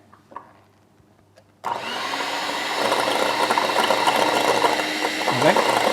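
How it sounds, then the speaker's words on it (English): An electric hand mixer whirs loudly and continuously as it beats egg for choux pastry, starting abruptly after a near-silent moment and running steadily to the end, close and unbroken. "if you pick up the mixer, put it through the egg first of all"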